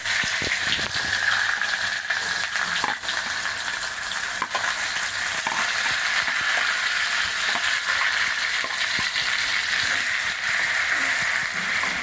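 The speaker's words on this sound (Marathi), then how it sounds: "आता आपले कढईमधले तेल छान तापले आहे। आपण कांदा टाकून घेऊ।" Chopped onion fries in very hot oil in a kadhai for stuffed masala brinjal, a loud, continuous close sizzle with occasional stirring and crackle throughout.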